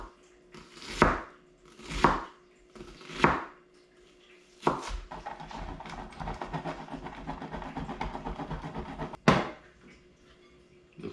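Squash is grated into a bowl: a few sharp knocks open the sequence, followed by several seconds of continuous scratchy rasping close up, and a final clack, with no one talking.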